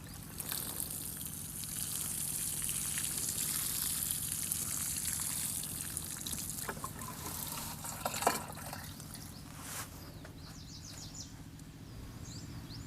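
Water pours and trickles steadily onto soil around newly planted wild vegetable (pak wan pa) seedlings beside their nurse tree, a soft continuous wet splashing with a few faint drips and distant bird calls in the background.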